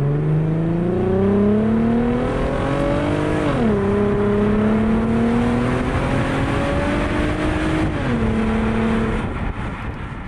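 Porsche Cayenne VR6 engine accelerating hard with a Tiptronic gearbox, loud and steady, pitch climbing and then dropping at each of two gear shifts, with no talk.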